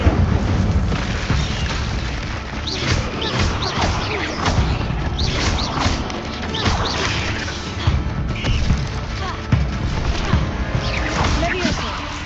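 Spell impacts and explosions go off continuously in the Hogwarts video game, dense booming crashes and whooshes layered over one another, with a voice shouting spell names throughout.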